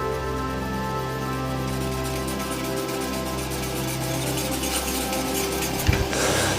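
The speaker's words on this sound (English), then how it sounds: "just to sharpen the tool" A woodturning tool edge is touched up against a steadily running machine, giving a continuous close grinding hum with fine rasping texture throughout and a brief contact knock near the end.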